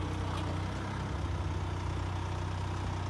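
A Mercedes C220 engine running at a steady idle, a continuous low rumble with even tone throughout, close and fairly loud with no talking.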